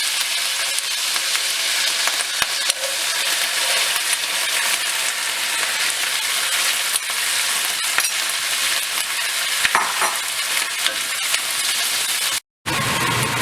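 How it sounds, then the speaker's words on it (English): Chopped onion and carom seeds frying in a hot pan, a loud, dense, continuous sizzle that fills the scene with faint scattered crackles and no talking, broken by a short dropout near the end. "So as they start to cook, now we're gonna add the onion."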